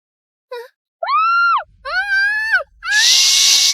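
A series of high-pitched screams of rising intensity in a dubbed drama, the first short, then longer wails, ending in a harsh, loud shriek, with a low rumble underneath.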